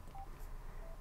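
Two short electronic beep tones sound from a Sena 60S motorcycle headset as its phone button is pressed twice, faint and brief over quiet background hiss.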